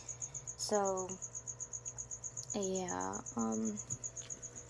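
Crickets chirp in a steady, rapid high-pitched pulse train that runs the whole time, with a few short voiced sounds and brief talk breaking in over it.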